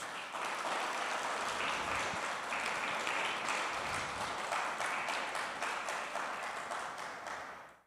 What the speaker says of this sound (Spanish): Denle un aplauso al Señor por esta palabra, hermanos.